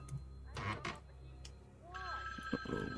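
A telephone rings somewhere in a horror video game house, an electronic trill that repeats faintly and a little muffled under a low hum, with a voice talking over it and clicks and shuffles close by.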